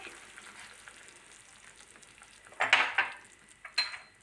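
Tomato sauce with thyme being stirred in a pan, a faint low sizzle followed by several brisk scraping, splattering stirs that grow louder toward the end; no one speaks.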